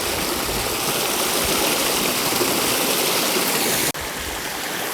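Mountain spring stream in Seweweekspoort flowing over rocks, a continuous close hiss and splash of running water with a brief dropout near the end.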